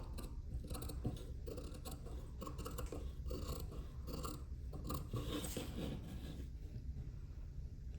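Fabric scissors snip steadily through a paper sewing pattern and fabric on a table, a close, continuous crunching and rasping of blades without talk.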